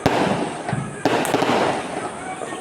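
Diwali firecrackers bursting around a residential neighbourhood, a sharp close bang followed by another loud crack about a second later, over a continuous crackling, hissing background of fireworks.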